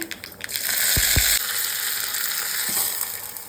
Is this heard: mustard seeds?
yes